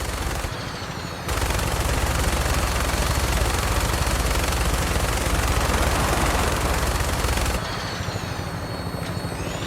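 Sustained, loud burst of minigun fire in Fallout 4, a dense continuous rattle lasting several seconds, with quieter rotor and engine noise before and after.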